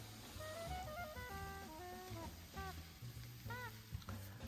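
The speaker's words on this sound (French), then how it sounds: "Je la dépose dans la poêle. Et je vais bien mélanger avec les carottes et l'oignon." Minced meat fries in a pan with carrots and onion, a steady sizzle running throughout while background music with a melodic line plays over it.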